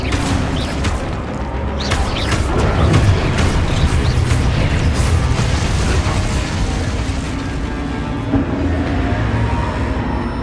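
Spell blasts in Hogwarts Legacy, fire and blasting curses like Confringo and Exposo, make a dense, continuous run of booms, pops and crashing impacts, loud and close throughout with rumbling bass and scattered sharp bursts.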